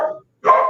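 A small dog barks twice at close range, two short loud yaps separated by a brief silence.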